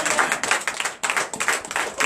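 A church congregation at a Sunday service in Benin claps in quick, uneven rhythmic bursts, fairly close and loud, with a brief break partway through.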